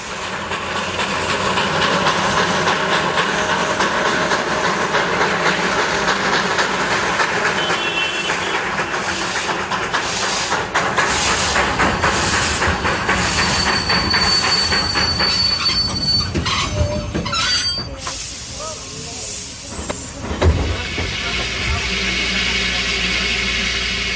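Darjeeling Himalayan Railway B-class steam locomotive, misbehaving, with loud sustained rail rumble and squealing wheels, hissing steam and metallic screeches throughout, a brief clank near the end.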